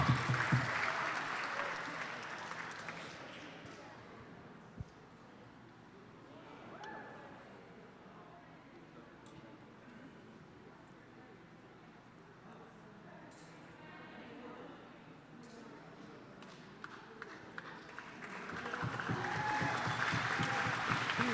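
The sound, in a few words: crowd cheering for a climber at the paraclimbing championship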